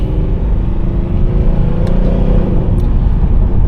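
A 2012 Mercedes-Benz C63 AMG (W204) 6.2L V8 engine rumbles steadily and loudly throughout a night drive, a deep continuous drone with slight revving swells, close by and with no voices.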